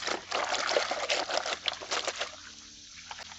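Jeans are hand washed in a basin of water, producing close, soft sloshing and trickling as the fabric is moved and lifted. The sound fades into light dripping, with no talk.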